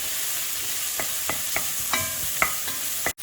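Onions stirred and sautéed in a pan for chicken with white sauce and risotto: a steady bright sizzle broken by several distinct scraping strokes of the spoon, ending in a brief sharp knock.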